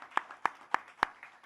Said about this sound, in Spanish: Un aplauso, gran debate, enorme contenido para los dos.